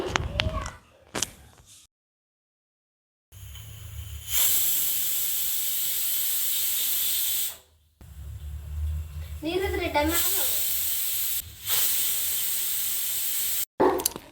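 A pressure cooker with potato and brinjal inside lets out long, loud steam hisses in several separate bursts, each a sustained rushing blast broken by short pauses, with a voice briefly speaking between them.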